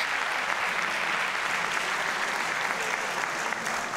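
A large studio audience on a Turkish talent show breaks into dense, continuous applause that holds at a steady, even loudness throughout, with no distinct voices standing out.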